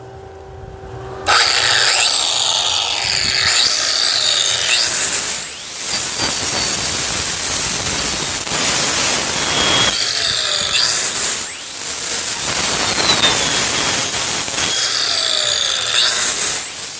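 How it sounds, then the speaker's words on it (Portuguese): Electric saw cutting wood while running on a Bluetti AC180P power station, a loud whining motor spinning up and bogging down through several cuts, with brief pauses between passes. "Vamos destravar essa serra."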